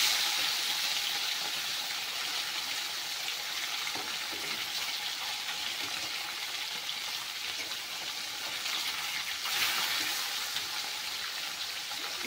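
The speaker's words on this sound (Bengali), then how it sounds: "একটু হালকা করে ভেজে নিতে হবে।" Pieces of fish fry gently in a pan, giving a steady, close, even sizzle like light rain that carries on for about twelve seconds without any speech.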